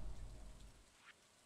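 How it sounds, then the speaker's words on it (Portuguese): Rain falls in the Stardew Valley farming game, a soft steady hiss that is faint and fades away over a moment, with no voices. "Que tá chovendo, né?"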